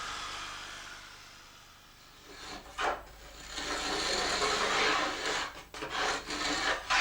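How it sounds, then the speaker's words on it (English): A jigsaw cuts through 5mm plywood for a model railway track bed, a rough rasping buzz that starts, pauses briefly and then runs on steadily close by. "We cut the 5mm ply to form the track bed with a jigsaw"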